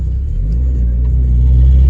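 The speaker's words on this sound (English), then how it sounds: "so y'all can hear the exhaust a little bit" Low, steady exhaust rumble of a Chevy S10 drift truck with modified exhaust, heard from inside the cab as a continuous loud drone at idle.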